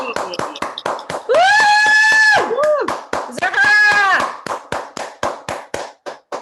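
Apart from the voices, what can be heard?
audience applause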